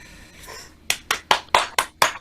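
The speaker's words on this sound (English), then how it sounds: "give James and Ndidi a big round of applause" Several sharp, separate hand claps ring out close and clear from online meeting attendees who have come off mute, a quick uneven burst of about six claps after a quieter start.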